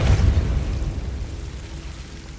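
Depulso spell cast in the video game Hogwarts Legacy, a loud low boom-like burst at the start that decays into a rumbling tail over a couple of seconds.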